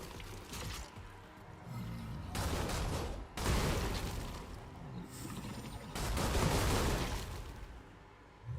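Gunfire from shooting in Stellar Blade comes in several dense bursts of rapid shots and blasts, separated by calmer gaps, with a player's voice heard in between.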